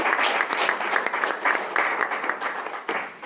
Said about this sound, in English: I would like to have one last round of applause for the technical developments and use cases of